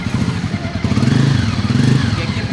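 A brand-new Loncin Rally 300 motorcycle starting for the first time, with its engine turning over and then settling into a steady, loud idle throb close by.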